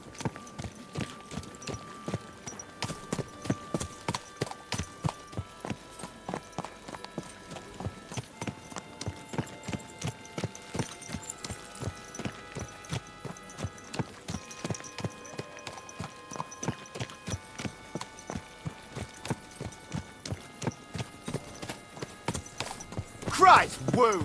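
Horse hooves clip-clop in a steady trotting rhythm while riding in the game Kingdom Come: Deliverance 2, moderately close with a faint background score, and a voice speaks partway through.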